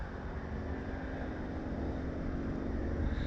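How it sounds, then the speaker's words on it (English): A steady, broad engine roar with a low rumble holds throughout, like an airplane passing overhead, swelling slightly toward the end. "I hear another plane."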